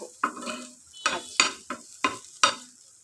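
Yardlong bean bhorta frying in oil, a soft sizzle under a series of five or six distinct scraping stirs of a spatula against the pan, close and clear, no talking.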